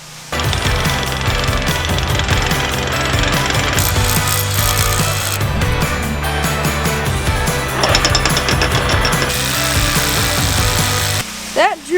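Loud, continuous mechanical drilling into very hard rock, with a grinding, hammering rattle that runs almost nonstop, briefly stopping near the end.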